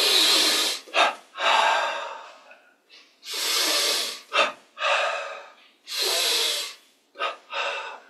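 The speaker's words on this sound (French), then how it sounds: "inspire." Deep breaths taken during a yoga exercise, several long airy inhales and exhales in a slow repeating rhythm, with short sharp intakes between them, close and clear with no talking.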